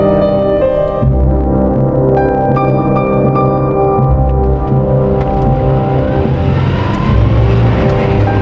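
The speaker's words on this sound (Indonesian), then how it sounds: "membawa mobil perlahan-lahan menyusuri jalan Slamet Riyadi" A car rolls slowly along a city road in a radio drama sound effect, a loud steady engine hum with gentle shifts in pitch and no voices.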